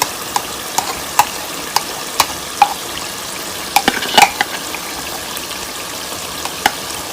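Minced keema with yogurt frying over a high flame, with a soft continuous sizzle under a steady series of sharp spoon scrapes and taps against the pan as it is stirred.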